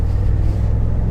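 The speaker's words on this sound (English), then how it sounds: "It sounds good, like a V8 should" A 2012 Ford F-150 XLT V8 engine idling, a deep, even rumble with a steady low throb, close and fairly loud, no voices.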